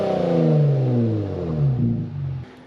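A Kia Stinger GT with a muffler delete revs its engine, a loud raspy tone sweeping down in pitch over a couple of seconds before cutting off, close and alone.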